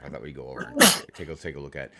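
A single sharp sneeze bursts out between stretches of conversational speech, loud and close, lasting under a second.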